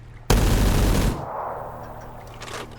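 High-recoil gun firing in a Star Wars–style Kamino firing range game session: a loud, sudden, sustained burst lasting under a second, then a fading echoing tail and faint ambient hum, with no voices.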